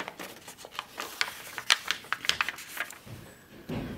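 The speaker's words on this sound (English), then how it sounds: "I'm going to use the point of my scissors" Scissors point poked into paper while making a DIY pinwheel gives a cluster of small crisp ticks and scratchy taps close by, with no talking.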